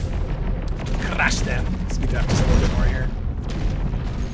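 Broadside cannons in the space strategy game Endless Space 2 booming in a continuous barrage of rumbling blasts and crackles, with a person talking over the top.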